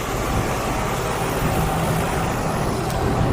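Diesel trucks pass along a city street with a steady, broadband rumble of traffic. The roar is close and continuous, with no voices.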